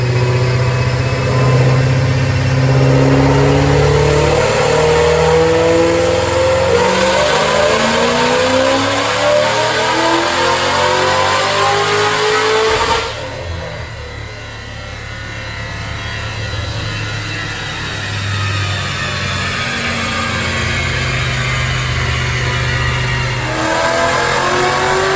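A supercharged 2009 Ford Mustang GT500 with a Whipple supercharger and 106K miles revs through loud dyno pulls, the engine climbing steadily in pitch, dropping off, then idling and building again, with no talk over it.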